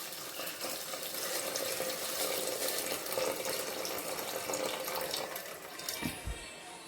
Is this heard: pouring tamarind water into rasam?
yes